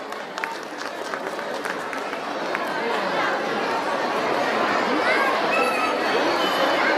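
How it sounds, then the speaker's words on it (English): Sustained applause from a school audience at an annual prize distribution and cultural programme, a dense wash of clapping mixed with crowd chatter that builds slightly and holds steady to the end. "Once again, a big round of applause for the performers."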